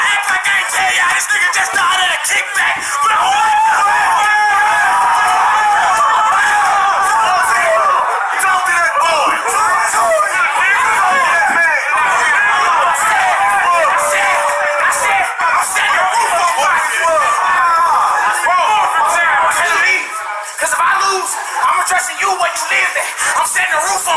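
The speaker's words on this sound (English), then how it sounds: "The crowd is loving it." Crowd noise at a rap battle event, with a dense mix of voices, whoops and yells from many people nearby holding steady for the whole stretch, broken only by a brief dip near the end.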